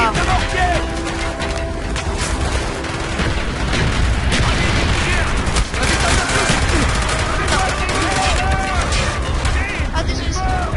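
Mortar fire and gunfire in the video game Call of Duty Black Ops: dense, continuous battle noise with rattling bursts and heavy booms piled on top of each other, loud throughout, with shouting and voices mixed into the chaos.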